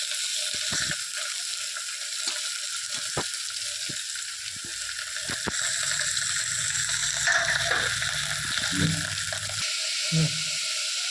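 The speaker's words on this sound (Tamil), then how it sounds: "போட்டு வெங்காயம் நறுக்கி வச்ச வெங்காயம், பச்சை மிளகாய் எடுத்து வச்ச காய்கறி போட்டுக்கிறேன். காய்கறியெல்லாம் நல்லா அந்த நெய்யிலே வதங்கட்டும்" Onion, green chilli and mixed vegetables sauté in ghee for a wheat rava khichdi, giving a steady close sizzle with scattered clicks and scraping stirs throughout.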